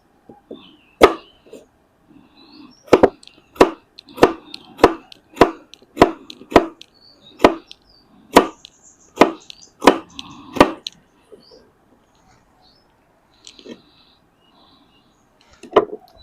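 Knife chopping ingredients into smaller pieces on a board while preparing shrimp fried rice, a run of a dozen crisp, evenly spaced chops up close, followed by quieter scattered handling noises.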